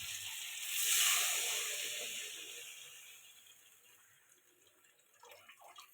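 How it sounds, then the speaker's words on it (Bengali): Water is poured into a cauliflower, potato and egg curry, a bright gushing splash that swells early and then thins to a soft trickle, ending with a few faint clinks. "এবার জল দিয়ে দেবো।"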